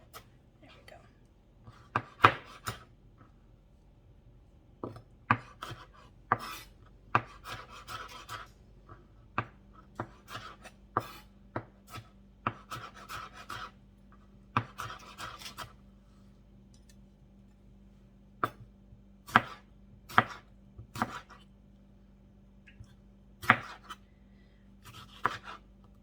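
Pico de gallo ingredients being chopped on a board, irregular bursts of crisp knife strikes with pauses between them, close and fairly quiet, with faint low hum and occasional speech-like sounds in the background.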